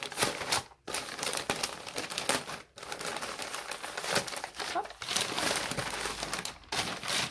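A parcel being opened up close, with dense, continuous crinkling and crumpling of wrapping that stops briefly a few times, loud and with no voices.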